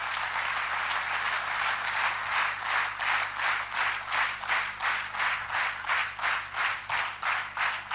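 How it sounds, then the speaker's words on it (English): An audience at an institute talk claps in sustained applause, a dense, loud, rhythmic patter of many hands that swells in waves and continues throughout. "Give another big clap for Dr. Bala sir."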